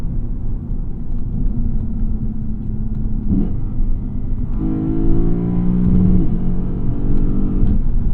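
A 2016 Lexus GS F engine droning from inside the cabin while driving in Sport S Plus mode, a steady low rumble that rises as revs climb and drops at a jolting gear shift.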